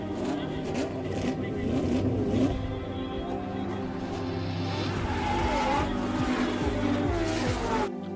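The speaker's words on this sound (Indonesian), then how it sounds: "Tony Stark memutuskan untuk mengikuti balapan mobil formula." Formula race cars roar and rev along a circuit in a racing scene from the film Iron Man 2, with engines droning steadily and a speaking voice partly over them.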